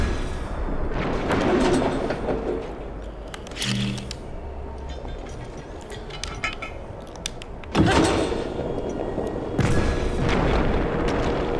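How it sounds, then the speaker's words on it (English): A cannon shot striking a large rock in Zelda: Breath of the Wild, a deep boom and impact rising out of steady game ambience, with a second heavier thud later. "That big rock, what if I could shoot a cannon at it?"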